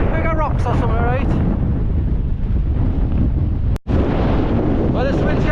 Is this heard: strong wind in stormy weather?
yes